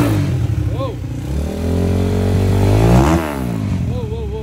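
A modified Yamaha-style RM 250 dirt bike engine revs hard and loud up close, its pitch climbing to a sharp peak before dropping back to a rough, steady idle, with brief voices in the background.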